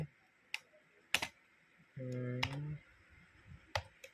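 Typing on a computer keyboard: a few sparse, close key clicks spaced apart, with a short tonal hum in the middle, quiet room.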